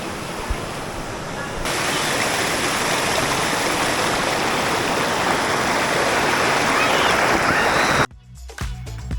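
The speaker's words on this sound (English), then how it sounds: "So the stream kind of wants to push you all the way down to the bottom." A mountain stream rushes over rocks into swimming pools in Litchfield National Park. The water is loud and close, a broad steady roar that swells after a couple of seconds and cuts out near the end.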